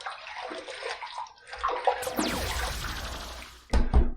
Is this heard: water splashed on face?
yes